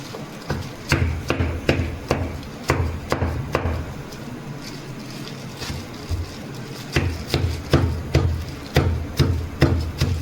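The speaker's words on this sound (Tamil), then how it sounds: "இப்போ அந்த வெள்ளம் நறுக்கி வச்சுக்கலாம்." Repeated sharp chopping knocks on a hard block of jaggery, striking in quick bursts with a short pause in the middle, close and loud.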